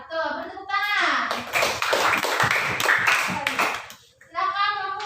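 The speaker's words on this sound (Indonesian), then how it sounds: "Beri tepuk tangan." A primary school classroom gives a student group a round of applause after a fractions lesson, with children clapping together in a loose burst between stretches of a voice speaking.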